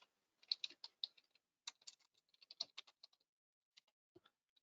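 Quick, light keystrokes on a computer keyboard tap close by in irregular bursts and short pauses, crisp and isolated against near silence.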